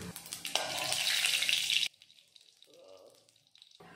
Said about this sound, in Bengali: কড়াই গরম করে দিয়ে দিলাম তেলের উপরে দিলাম জিরা আর কালো জিরা